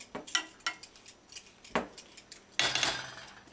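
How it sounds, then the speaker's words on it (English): Spoon stirring a breakfast mixture just added to boiling water in a pot, a few quick metallic scrapes and clinks against the pot, close and irregular, ending in a louder scrape, no talking. "you just give it a quick stir, make sure it's all moistened up in there"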